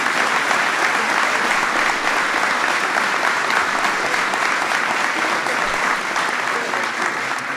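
Sustained, even applause from a large crowd fills the whole stretch at a constant level, honoring the 2016 NCAA champion Villanova Wildcats men's basketball team.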